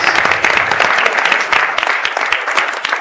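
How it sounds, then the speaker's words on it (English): Crowd applause for co-winners at a walleye ice fishing contest, a dense burst of many hands clapping steadily at close range for a few seconds. "Let's give them applause."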